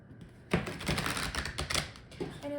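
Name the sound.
shuffling tarot cards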